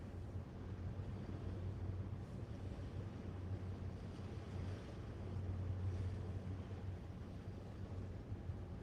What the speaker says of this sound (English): Hear the engines pick up speed.